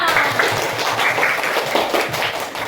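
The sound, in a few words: classroom applause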